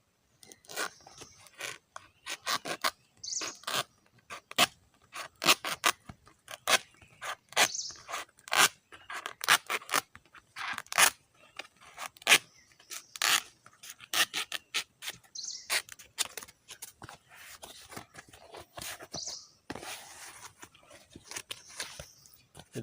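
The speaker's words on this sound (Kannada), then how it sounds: "ಭಾಗವನ್ನು ಕೂಡ ನಾವು ಕಟ್ ಮಾಡಿಕೊಳ್ಬೇಕು" A dried arecanut leaf sheath being cut and trimmed by hand to make a plate, giving a long run of sharp, dry crunching snips and rasping cuts in a quick irregular rhythm, close and fairly loud with no talk.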